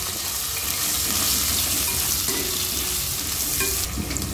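Curry leaves, slit green chillies and salt stirred through hot oil in a pan for leftover-rice fried rice, a steady close sizzle with scraping stir strokes, no talk.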